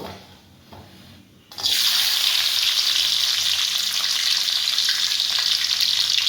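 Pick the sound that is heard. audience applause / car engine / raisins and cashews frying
raisins and cashews frying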